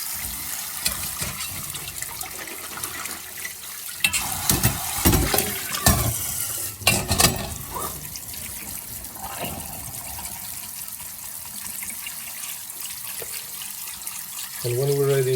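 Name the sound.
rinsing chickpeas under running tap water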